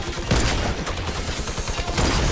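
Gunfire from a bolt-action sniper rifle in Fortnite: a couple of sharp loud reports, one near the start and another near the end, over a dense, continuous rumble of game noise.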